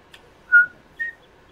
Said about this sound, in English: Don't mind me whistling in my head.